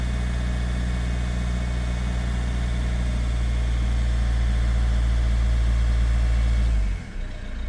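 A Ford Kuga 2.0 TDCi diesel after a fuel filter housing change, held at raised revs with a steady loud drone, then dropping away near the end.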